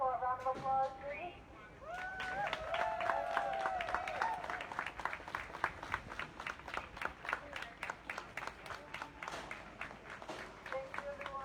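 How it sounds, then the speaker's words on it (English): Crowd at an Animal Rebellion rally claps together in a dense outdoor round of applause, with cheering voices at the start and steady rhythmic clapping continuing through to the end. "Can we give everyone one last round of applause, please?"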